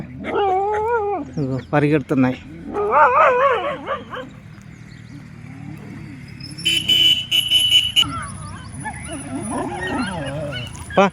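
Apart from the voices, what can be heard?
dogs barking and howling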